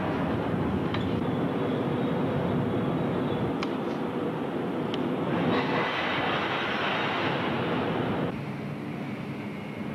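A freight train loaded with oats from the Canadian prairies pulls into a grain elevator, giving a steady, loud rolling rumble that fills the whole stretch with faint clanks on top before easing slightly near the end.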